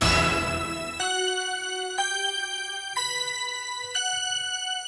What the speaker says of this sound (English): I think this is one of my gospel bells that I use all the time